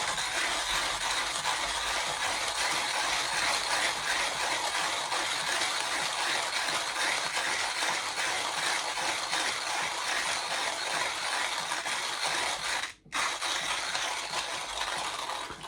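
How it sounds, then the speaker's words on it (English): A hand-cranked manual coffee grinder crushes beans in a dense, continuous gritty rasp with a fast ratcheting texture, heard up close and alone, broken by a brief pause near the end. "then I'm going to grind the beans"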